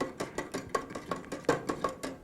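Spoon stirring table salt into water in a glass, a quick series of about a dozen light, evenly spaced clinks and taps against the glass over a couple of seconds, close and fairly soft.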